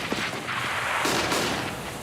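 A grenade detonating in CS:GO on the de_Nuke map at a DreamHack Winter 2014 match, a loud burst with a rumbling boom and crackling debris over steady game ambience, no voices.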